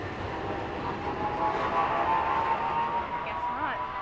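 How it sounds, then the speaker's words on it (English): A train rumbles steadily nearby with a faint tonal squeal near the end, while people talk over it. "is this your train?"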